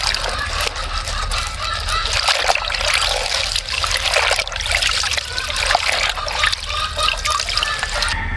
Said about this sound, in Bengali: তো আমি এখানে প্রথমে পালংটা ভালোভাবে ধুয়ে নিচ্ছি।